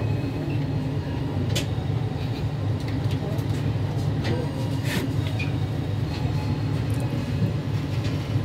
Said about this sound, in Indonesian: kereta api Argo Dwi Pangga sudah diberangkatkan dari stasiun Purwokerto